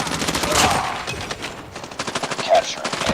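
Rapid automatic gunfire from a first-person shooter video game match, recoiling bursts of sharp shots repeating close and loud across the whole stretch, with faint voices underneath.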